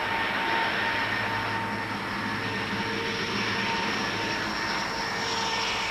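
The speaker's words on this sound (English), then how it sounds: "they're flying in a small plane" Steady broadband engine drone of a small passenger plane in flight, heard from inside the cabin on a 1970s trip to Guernsey, continuous and fairly loud with no talk.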